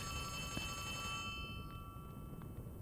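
A telephone rings inside a video game, steady electronic ringing tones that sound on throughout, with softer tones in the second half, over a constant low background of game noise.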